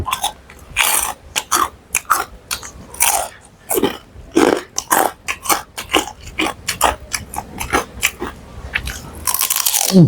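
Crispy pork rinds served with khanom jeen noodle salad are bitten and chewed up close, a rapid series of loud, sharp crunches followed by quieter chewing, with no talking.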